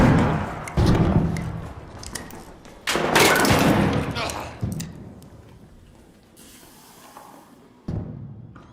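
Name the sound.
grenade thrown and exploding in a video game shooter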